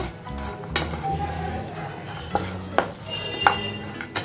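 Dry fruits frying in hot ghee in a non-stick pan over low heat, a steady close sizzle broken by sharp clicks and scrapes of a spoon stirring against the pan.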